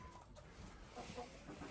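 Chickens clucking inside a coop with deep bedding, faint and close, with a few soft clucks over quiet background noise.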